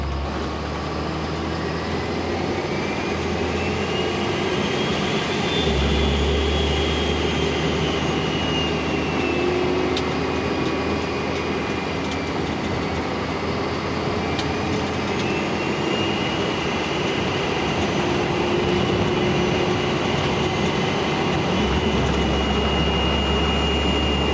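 A compound-turbo 5.9 Cummins diesel truck's exhaust drones at a low, steady pitch while driving, with engine tone rising and falling gently throughout.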